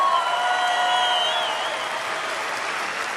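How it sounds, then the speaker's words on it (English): A comedy show audience applauds the spotlight operator, a dense burst of clapping that starts full and slowly thins out over a few seconds. "Can we give a big round of applause to our person running the spotlight up there?"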